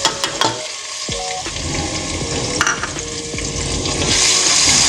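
Steady frying sizzle of ginger and garlic in a pan with a few stirring clicks and scrapes, growing slightly louder toward the end; no talking.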